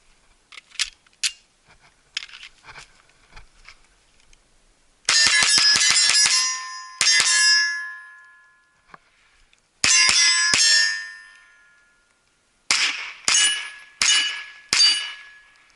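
A Sig P320 pistol with a DIY trigger job fires 165 grain rounds outdoors in several quick clusters of sharp, loud cracks with ringing decays, preceded by faint handling clicks and no talking.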